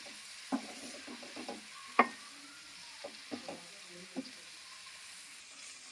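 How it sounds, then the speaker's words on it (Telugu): A curry mixture of flour (pindi koora) is stirred and mixed in a pan, giving a handful of scattered scraping clicks against a quiet background, with no talking. "దీన్ని బాగా మిక్స్ చేసుకోవాలి"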